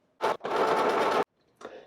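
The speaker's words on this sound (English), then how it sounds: "I'm going to use the sewing machine to sew along this whole circumference." A sewing machine stitches around the circumference of a shirt sleeve, in a short start followed by one steady close whirring run that stops abruptly, then another brief start.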